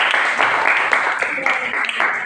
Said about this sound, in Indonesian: Tepuk tangan dari kelompok 2.